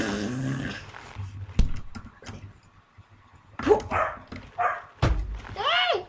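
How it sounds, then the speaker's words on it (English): A dog barks in short sharp bursts and growls low in the background while a Happy Wheels game plays, with brief game noises and a little voice mixed in. "Sorry about my dog again."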